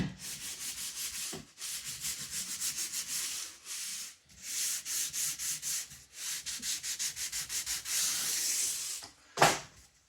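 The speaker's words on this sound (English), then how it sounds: "Give them a quick sand." Small parts for a Tony Ray Tiger Moth model aircraft kit are sanded by hand, with rapid back-and-forth rasping strokes in close, loud bursts separated by short pauses and a single knock near the end.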